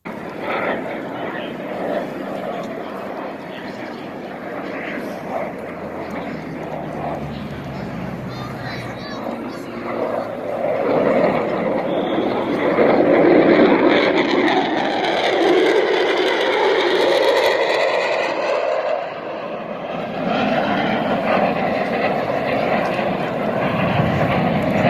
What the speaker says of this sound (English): here is another clip of a jet fighter circling the airfield at high speed